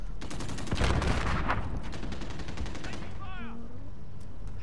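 Gunfire in the Call of Duty: Modern Warfare multiplayer alpha on PS, loud, rapid automatic bursts filling the first three seconds, followed by quieter game effects and a brief rising whistle-like tone.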